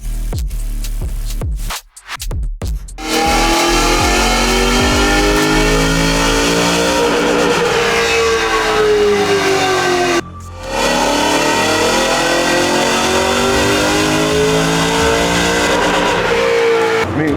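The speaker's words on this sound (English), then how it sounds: "Oh yeah, it's got a great sound. And it's a high revving engine." A powerful high-revving engine on a dyno revs hard and loud, climbing in pitch to a sustained high-rpm wail, briefly dropping off before screaming up again.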